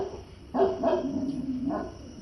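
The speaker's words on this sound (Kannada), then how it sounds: "ನಮ್ಮ ನಾಯಿ ಬೊಗಳಾಕತ್ತೈತಿ" A dog in a cartoon barks in a few loud, short bursts, with no voices in the clip.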